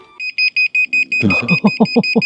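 A loud carbon monoxide alarm beeps in quick, even pulses, with voices talking over the second half.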